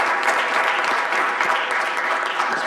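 Steady applause from an audience at a school board business meeting, welcoming a student leader; dense clapping holds at an even level throughout, with no voices over it.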